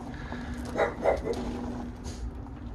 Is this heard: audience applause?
no